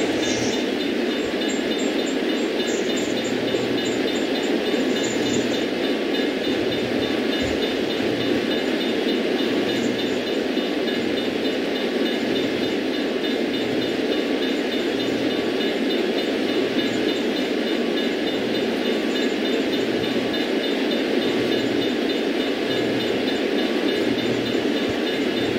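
A freight train rolls along rails in the Run 8 train simulator, with a steady, continuous rumble and a faint regular clickety-clack of wheels over rail joints throughout, with no voices.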